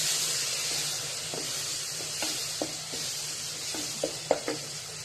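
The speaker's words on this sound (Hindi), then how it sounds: "मसाले को अच्छी तरह हम भून लेंगे।" Chili powder and spices sizzle steadily in a hot pan while preparing aloo phaliyan, with a continuous frying hiss broken by scattered clicks and scrapes of a stirring spoon.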